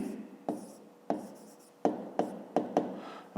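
A pen scratching numbers into a math exercise book: a run of sharp, closely spaced strokes that quicken toward the end, near and distinct with no voices.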